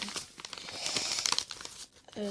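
Paper is folded back and forth into a pleated paper fan, giving close crisp crinkling and creasing crackles in quick bursts, with a voice speaking briefly at the end.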